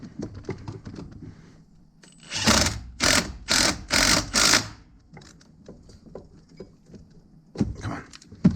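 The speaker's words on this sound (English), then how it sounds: "We'll just tighten them down with the impact at first, and we'll give them a final torque by hand." An impact wrench tightens bolts on a 1993 XLT modified snowmobile, firing five loud, rapid hammering bursts in quick succession, surrounded by quieter clanks and shop handling noises.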